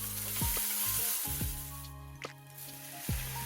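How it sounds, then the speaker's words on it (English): Garlic sautés in a little oil in a pan, giving a steady, close sizzle with a few soft stirring scrapes and clicks, and no voices. "Then I'm sauteing the garlic with a little bit of oil till it develops some brown spots"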